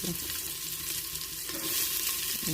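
Onions sizzle and crackle steadily in a hot pan for salted rice, a continuous close frying hiss with faint stirring and no voices.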